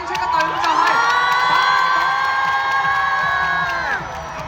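Players and spectators at a dodgeball challenge game cheer loudly for the winning white team, with excited shouts and whoops overlapping in a continuous burst of celebration that fades slightly at the end.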